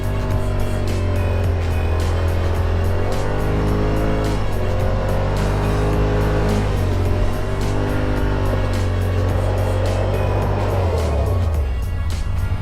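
A car drifting in two-wheel drive, its engine revving loud and close in rising and falling waves, the strain building toward a high whine near the end, no voices.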